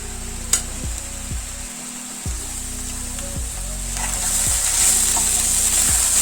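Ivy gourd fries in a pan over a medium flame, a continuous close sizzle with regular scraping stirs that grows slightly louder and hissier toward the end.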